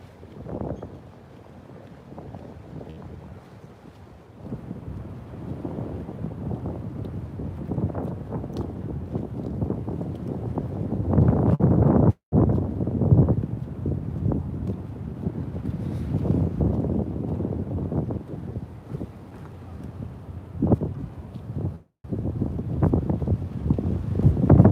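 Wind gusts buffet the microphone along the Queens waterfront in Long Island City, a loud rumbling rush that swells and falls with a couple of sharp cutouts.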